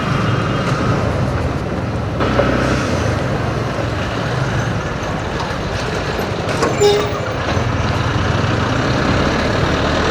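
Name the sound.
Yamaha motorcycle engine running after servicing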